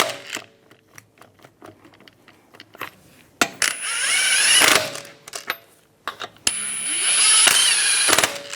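Power tools spin lug nuts as a front wheel goes back onto a 2010–2016 Cadillac SRX, with clicks and rattles followed by two loud, sustained whirring bursts of an impact driver.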